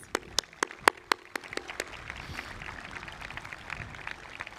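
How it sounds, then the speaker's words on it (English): A few sharp, distinct claps open the moment at a high school graduation ceremony, then spread into soft, scattered applause from the audience that trails off quietly. "so we can give you a proper round of applause."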